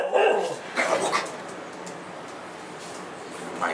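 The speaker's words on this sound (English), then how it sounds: "My dog is here." A dog barks a few times, close and fairly loud, then trails off into softer whimpering and yips, indoors near someone handling airsoft guns.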